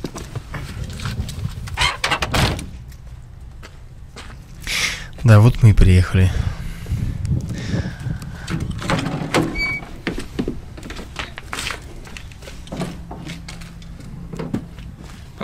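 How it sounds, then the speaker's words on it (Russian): A car door is opened on arrival home, with clunks and sliding mechanical sounds close by amid movement while someone talks throughout. "Сейчас, секундочку, я вам дверь открою."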